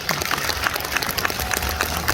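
Audience applauding at a 2023 commemoration ceremony for the March 15 uprising in Gwangju, steady dense clapping from a crowd throughout, continuous and fairly loud with no talking.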